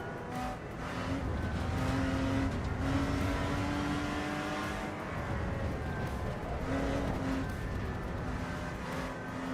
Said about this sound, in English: This car wants to, slide, so it's a little oversteery.